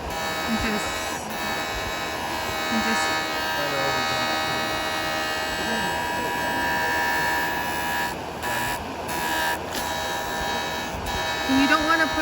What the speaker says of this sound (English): So there's no more grinding at this stage. You're kind of honing it